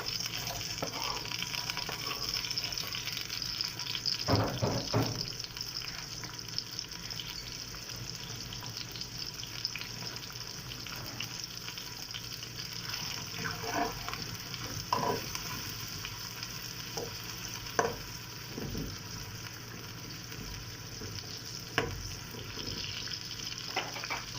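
Finely chopped onion, about a cup, frying in roughly a cup of oil for a pumpkin sabzi, giving a steady sizzle with occasional stirring clinks and scrapes from a spoon against the pan.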